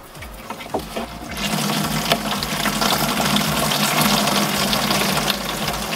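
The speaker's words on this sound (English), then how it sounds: "So now we're going to go ahead and water these in." Newly planted salad greens in a polytunnel get watered, a steady rush of pouring water that swells after the first second and then holds loud and continuous to the end.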